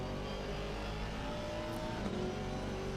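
GT3 race cars at Monza in Assetto Corsa Competizione, a steady engine drone as cars run into the Variante Alta chicane, loud and continuous with no talk.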